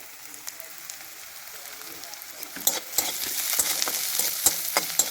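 Chopped onion and garlic frying in a pan, a steady broadband sizzle that grows louder midway as the garlic goes in, with scattered crackles and stirring clatters, close and alone.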